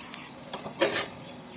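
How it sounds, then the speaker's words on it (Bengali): A metal kadai used for cooking vegetables is being scrubbed clean at home. A few quiet metallic scrapes and clinks come in short bursts around the middle, close but faint, with no talking. "এখন আমি কড়াইটা ভালো করে মেজে একদম রেখে দেব"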